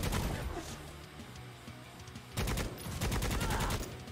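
Rapid bursts of automatic gunfire from Necromunda: Hired Gun, a dense rattling stream that eases off, then a louder, harder volley of repeated shots resumes near the end, with no talking.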